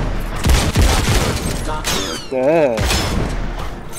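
Gunfire in the VR video game Robo Recall comes as several sharp, loud shots and bursts scattered among game sounds and effects, while someone talks in Thai over the action.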